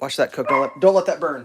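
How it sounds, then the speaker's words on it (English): A pet dog barks to be let outside in a home kitchen where pancakes are shallow-frying. The short yips and barks are mixed under a man's close, continuous talking. "that's my dog barking to go outside right there."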